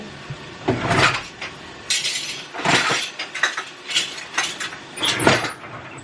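A spoon clinking against dishes while cooking in a home kitchen, a series of sharp metallic clinks and taps, irregular and close, with small clattering handling sounds between them.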